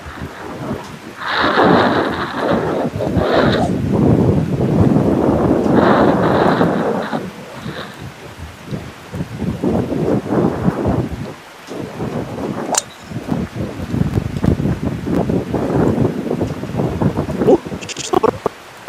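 Strong wind on a golf course blasts across the microphone in loud rumbling gusts that swell and fade, with people talking between and over the buffeting.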